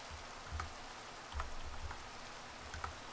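Rain falls in a survival video game, a quiet steady patter with a few soft louder drips and thumps scattered through, with no one speaking.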